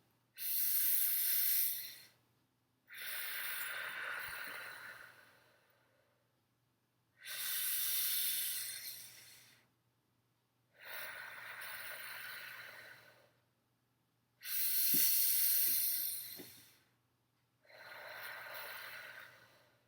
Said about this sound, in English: We're going to pretend that we're breathing through the straw.